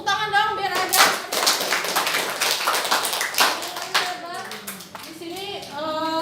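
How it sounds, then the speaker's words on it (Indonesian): Students in a classroom clap their hands in a dense, lively burst lasting several seconds, with children's voices and chatter mixed in throughout. "Tepuk tangan dong biar ada."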